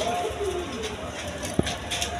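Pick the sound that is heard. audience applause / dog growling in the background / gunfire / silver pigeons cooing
silver pigeons cooing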